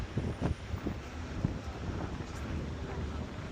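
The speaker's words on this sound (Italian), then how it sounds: "c'è anche vento, arriva sicuro" Wind gusting outdoors on the way to a Venezia vs Fiorentina Serie A match in Venice, a broad rumbling buffet across the microphone with a few bumps and knocks early on, steady and close throughout.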